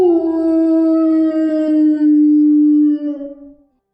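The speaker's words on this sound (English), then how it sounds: "And then, a howl." A single long wolf howl from a monster, loud and close, holding a steady pitch for several seconds before wavering and trailing off, with nothing else heard.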